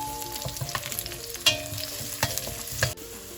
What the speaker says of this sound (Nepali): आलु राखेर एकछिन यसलाई यसरी परपरी भुट्नुपर्छ